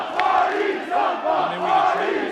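A wrestling crowd cheering at a live event, a dense roar of many voices swelling and chanting in waves, loud and close, with no single speaker.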